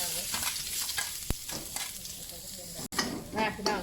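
Pork being stir-fried with egg and garlic for a soy-sauce noodle dish, with spatula scrapes and clanks over a steady sizzle, a sharp knock near the middle and another brief dropout later.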